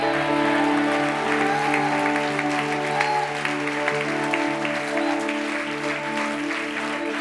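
A church congregation at a Hindi-language sermon breaks into steady applause that lasts throughout, layered over sustained keyboard or organ tones playing underneath.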